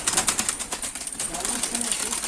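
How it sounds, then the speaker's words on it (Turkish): Game pigeons released in Mardin, a rapid fluttering clatter of many wings beating close by, with people talking over it. "Şimdi buradan mevziden salıyoruz kuşları."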